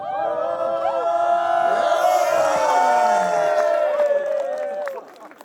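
A crowd at Diamond Club Scotland 2022 cheers on a thrower with loud, sustained mixed shouts and whoops that hold for several seconds, then drop off abruptly near the end.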